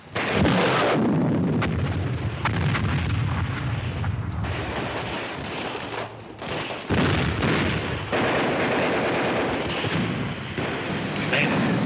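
Artillery gun firing in a 1953 paratrooper war film, a loud, sustained barrage of booms and blasts filling the whole stretch, with dense battle noise and brief drops between volleys.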